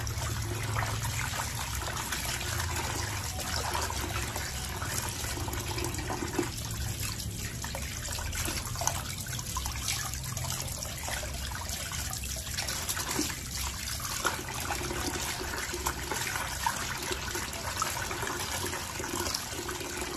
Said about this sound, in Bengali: চলো মাংসটা ধুয়ে নিয়ে